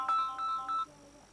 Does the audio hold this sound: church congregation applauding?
no